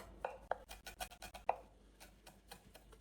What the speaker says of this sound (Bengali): রসুনগুলো অবশ্যই ভালো করে চপ করে নিতে হবে